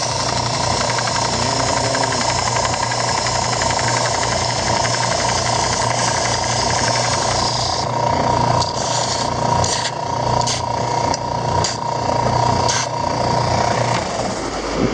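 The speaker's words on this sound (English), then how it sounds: "I'll come over here to the sander and hit it with the sander and sand that off just a little bit right there" A power sander buzzes loudly and steadily against a wooden dice box part, a continuous close motor whine that shifts partway through, with intermittent sharp contact noises in the second half.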